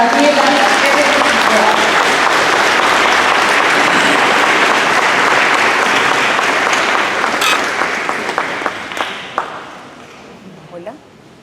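An audience gives loud, sustained applause to welcome speaker Daniela Emmerich. The dense clapping carries on for about eight seconds, then thins into a few scattered claps and fades out.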